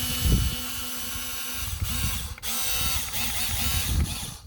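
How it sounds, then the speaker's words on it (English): An electronic screwdriver loosening screws on the airbox of a 3rd-generation Acura MDX, a low whirring motor running in short bursts with brief pauses between, close up and fairly quiet. "So I'm going to go ahead and use a automatic or electronic screwdriver."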